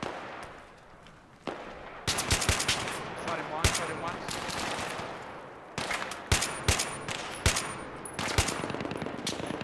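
Battlefield 3 Reality Mod gunfire on the Karkand map: dense bursts of automatic fire and sharp single shots, quieter at first, then loud, closely spaced volleys through the rest, with some voices mixed in.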